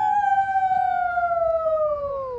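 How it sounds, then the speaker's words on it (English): A long, steady wailing howl at the Columbus Zoo, loud and sustained with a slowly falling pitch, carrying over a faint background murmur. "We just heard a howl."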